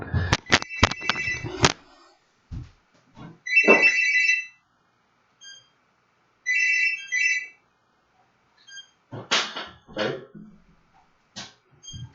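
An in-game telephone in the Cogmind computer game rings in two short bursts of high, warbling electronic tones, set apart by brief gaps and mixed among sharp clicks and sci-fi combat effects.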